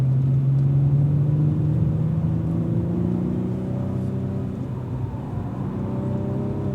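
A Cadillac V-series race car on a racing circuit, its engine droning loud and close with a steady, slowly rising tone and no talk over it.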